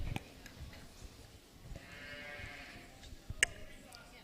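At a junior livestock show, a sheep gives one drawn-out bleat in the middle of the clip, not very loud and somewhat distant, over the low murmur and scattered clatter of the show barn.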